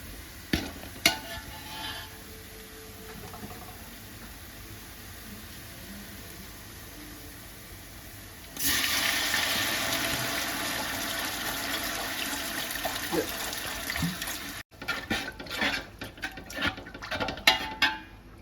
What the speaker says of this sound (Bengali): এবার আমি এতে জল দিয়ে দেবো